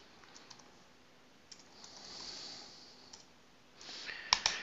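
Keys on a computer keyboard are pressed while a command is entered on a Linux server: a few faint, sparse clicks, then a quick cluster of sharper taps near the end, all in a quiet room.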